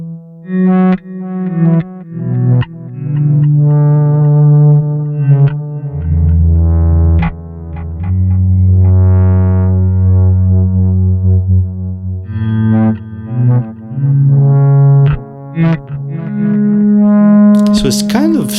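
Bass guitar run through delay and distortion rises in slow volume swells controlled by an expression pedal, the notes blooming and sustaining with echoing tails and growing grit, loud and upfront with no voices.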